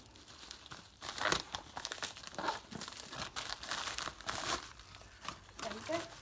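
Close crinkling and crumpling of packaging, with occasional tearing, as a box is pulled out of its wrapping during work on a 1964/5 Bolens 900; the rustling comes in steady uneven bursts.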